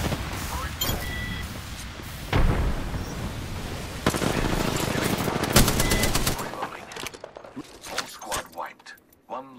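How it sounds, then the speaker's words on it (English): Rapid bursts of automatic gunfire in the video game Apex Legends ring out loud and close, with sharp broadband cracks clustered through the middle, over game voice lines and background effects. "Opening fire."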